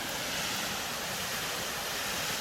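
Water rushes down the Kocaçay waterfall as a constant dense roar, steady and unbroken throughout, with no voices.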